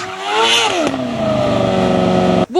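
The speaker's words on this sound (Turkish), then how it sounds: "YTR-02 8-12 Temmuz arasında İngiltere'deki Formula Student yarışmasından sonra şimdi de Yıldız Teknik Üniversitesi'nde hünerlerini sergiliyor" The YTR-02 Formula Student race car, a university-built single-seater, revs hard close by with a loud, buzzy engine note. The pitch climbs, drops sharply, then holds steady before cutting off abruptly.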